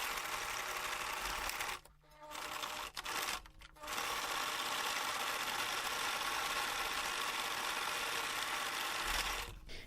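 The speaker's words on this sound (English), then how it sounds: "Now I finished sewing all the pockets" A sewing machine sews fabric pockets for a hanging bag made from scraps, a loud, close, steady whir broken by two short pauses near the start, then running continuously to the end.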